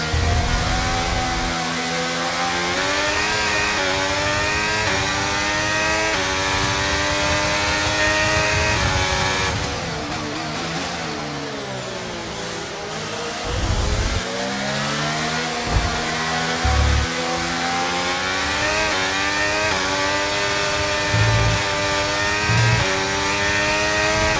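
F1 race car engines roar on the final lap in the video game F1 23, a loud continuous high-revving whine that rises and falls with gear changes and braking.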